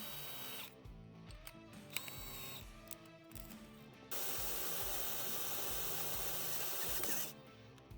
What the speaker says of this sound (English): let's switch over to the 1/2 inch bit and get the final hole size